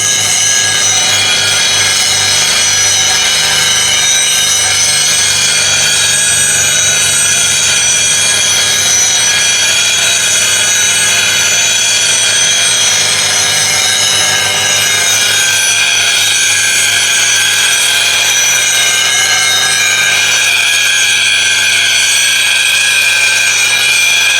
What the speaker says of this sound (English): now go to 80 grit CBN wheel just to finesse this a little bit better